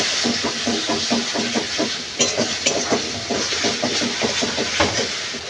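A spice masala of turmeric, chili, coriander and cumin powders fries in oil in a pan for okra chorchori, giving a steady close hiss broken by quick, rhythmic scrapes of stirring.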